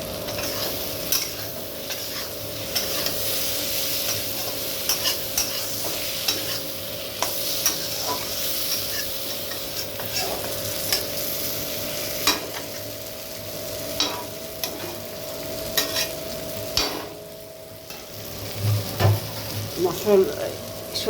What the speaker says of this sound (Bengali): সবজির আলুগুলো সমস্ত সবজিগুলো ঢেকে ঢেকে কষিয়ে নেব।